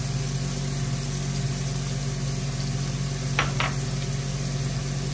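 Tofu and pork chops fry in a pan, a steady close hiss of oil over a low constant hum, with a couple of brief scraping clicks as the food is stirred.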